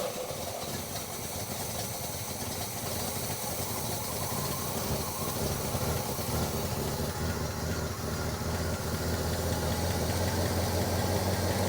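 A 1977 Pontiac Can Am engine cranking, catching and then running at a steady rough idle, a continuous close mechanical rumble with clattering texture and no talk.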